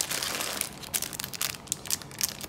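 A plastic bag from enamel pin packaging is crinkled and crumpled up close, giving a run of irregular rustles and sharp crackles, with no talking.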